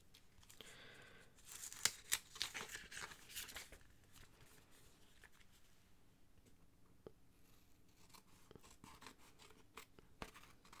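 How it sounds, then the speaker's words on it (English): Quiet snipping of scissors trimming material, a cluster of crisp cuts near the start followed by sparse, faint snips over low room noise. "I'm just trimming this up with scissors."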